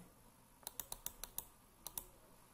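Keys click on a computer keyboard while text is typed in AutoCAD: eight quiet, crisp taps in a quick burst, then a short pause, then a pair more, close and isolated with no talk.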